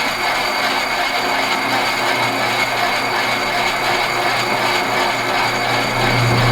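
An old drill press with a gear-driven power feed runs loudly and steadily nearby. It gives a continuous mechanical hum with a gear whine and faint rattling as the spindle slowly feeds down. No one speaks.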